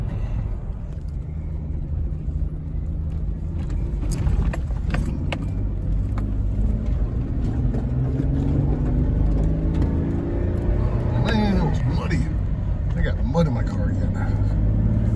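A Jeep fitted with a Rugged Ridge differential skid plate on its Dana 30 axle is driven hard, the engine droning and rising as it revs and accelerates, loud and close throughout, with a voice talking over parts of it.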